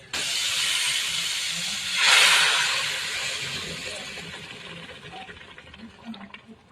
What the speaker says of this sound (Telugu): వెల్లుల్లి ఎండుమిర్చి కరివేపాకు జీలకర్ర ఆవాలు కొద్దిగా ఇంగువ వేసి పోపు పెట్టుకోవాలండి